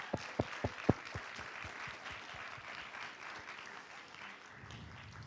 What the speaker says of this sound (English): kids, let's give your parents a round of applause